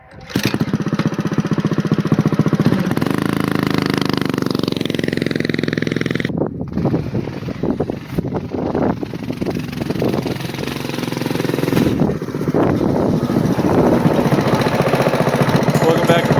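A homemade snowmobile bike's small engine runs loud and close in a steady rough drone, with the revs shifting and sputtering partway through.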